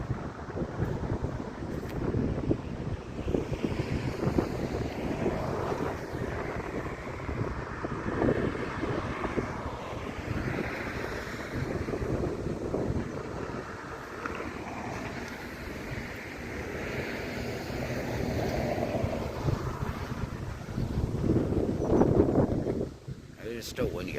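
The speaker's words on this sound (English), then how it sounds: "It's still windy out here, though." Strong wind buffets the microphone outdoors under a tornado watch, a continuous loud rumbling roar with gusty swells, while a person talks throughout.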